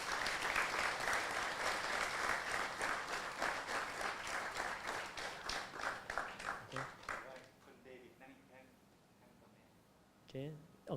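Audience at a sunset peace gathering claps hands in thanks for volunteers: dense, loud applause that gradually thins into scattered claps and fades out, followed by brief speech near the end.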